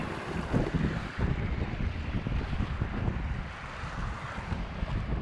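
A waterfall in the N'Go valley, heard as a loud, continuous broadband rush of falling water, steady and close throughout with no talking.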